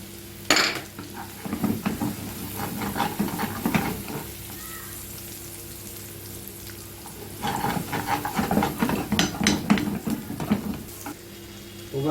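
Sausage sizzles in a pan with onion while a utensil stirs and scrapes against the metal, the frying hiss continuous beneath two rounds of clattering stirring.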